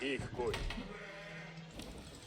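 Sheep bleat in Age of Empires IV with a short, clear cry near the start, followed by softer in-game clatter.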